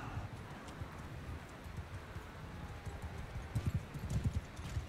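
Horse hooves clip-clop in Mount & Blade II: Bannerlord multiplayer, a steady low drumming of footfalls that grows heavier toward the end, with game battle noise underneath.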